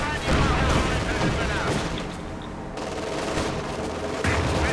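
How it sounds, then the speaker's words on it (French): Heavy machine gun fire in the war game Company of Heroes 2, dense bursts of rapid shots and booms, loud and close, fading briefly mid-way before more firing resumes. "En contact. Mitrailleuse lourde."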